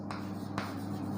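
Chalk or marker scratches twice on a board while a letter is written, two short, soft strokes about half a second apart over a quiet room hum, with no talk.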